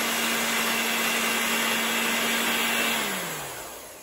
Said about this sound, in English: First, I'm going to go ahead and beat my egg yolks just a little bit.